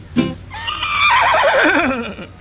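An angry horse gives a loud, close neigh: a short sharp burst, then a long quavering whinny that trembles down in pitch before fading, with no talking.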